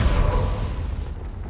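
A Confringo fire spell in the video game Hogwarts Legacy bursts in a single deep, rumbling boom that rolls off and fades quickly, loud at first and then dying away.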